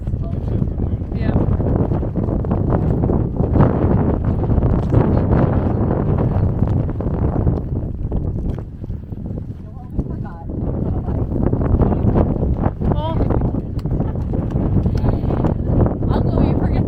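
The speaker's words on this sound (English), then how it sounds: "it's so windy" Strong wind buffets the microphone in a constant roar at an outdoor farmers market in South Point, Hawaii, with voices talking underneath and gusts swelling and easing.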